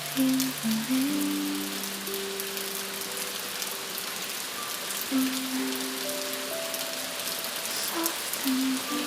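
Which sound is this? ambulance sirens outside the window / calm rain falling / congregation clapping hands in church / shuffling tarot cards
calm rain falling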